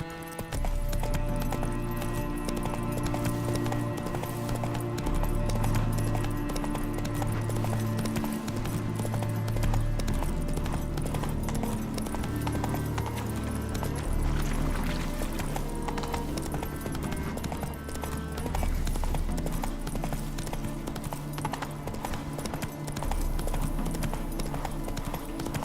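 Roach the horse galloping in The Witcher 3, a steady rhythmic clip-clop of hooves sustained over a low game music bed, with occasional snorts and a brief voice.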